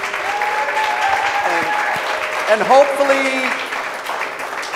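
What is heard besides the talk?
audience applause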